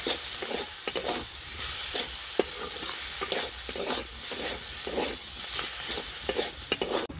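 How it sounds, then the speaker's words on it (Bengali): Spoon stirring a samosa potato filling mixed with turmeric, salt and chopped coriander in a pan, with close, repeated scraping strokes in a steady rhythm over a soft sizzle. "হলুদ গুঁড়ো হাফ চামচ, স্বাদ অনুযায়ী লবণ, ধনেপাতা কুচি দিয়ে ভালো করে নেড়ে নেবো আলুটাকে।"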